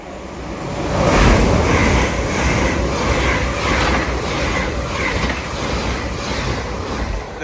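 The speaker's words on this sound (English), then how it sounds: "passing through now is an LNER Azuma en route from Edinburgh Waverley to London King's Cross" An LNER Azuma train runs through Alexandra Palace on the East Coast Main Line, a loud, close rumble with rhythmic clickety-clack of wheels over rail joints that swells early and then holds steady.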